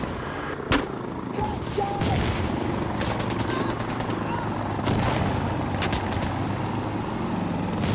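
Gunfire in the tactical shooter Insurgency Sandstorm, with sharp single shots and bursts of rapid automatic fire cracking loudly over a steady rumbling background, some volleys close and others trailing off.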